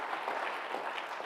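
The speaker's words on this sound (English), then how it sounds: "A big round of applause to everyone." Steady applause from a crowd, dense and continuous clapping with no pauses, moderately loud throughout.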